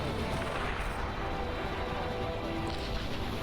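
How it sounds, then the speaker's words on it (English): Explosion in the real-time strategy game Beyond All Reason, heard as a dense, steady roar of rumbling battle noise that stays loud for the whole stretch, with no distinct separate blasts. "Massive explosion up here."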